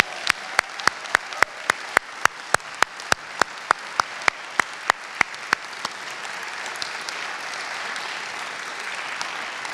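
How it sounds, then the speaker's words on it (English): An audience at an Executive MBA graduation ceremony applauds, with a dense bed of clapping from many hands. Sharp, evenly spaced loud claps from one nearby person run through the first half before the clapping settles into a steady wash. "Give them a round of applause."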